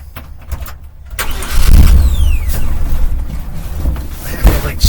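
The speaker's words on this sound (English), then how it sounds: "I have to step on the gas pedal and then it's stalled." A car engine cranks and catches close by, then runs roughly with uneven revving for a few seconds before sputtering toward a stall.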